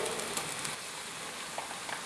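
Brandy poured into onions frying in a pan for chicken liver pâté, the alcohol burning off with a steady, moderately quiet sizzle and a few soft crackles, no talking.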